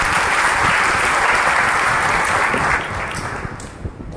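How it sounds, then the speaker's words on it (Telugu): A church congregation claps loudly together, a dense, sustained burst of applause from a large group that eases off slightly toward the end. "అందరూ కూడా గట్టిగా చప్పట్లు కొడుతూ యేసుని స్తుతించుదాం."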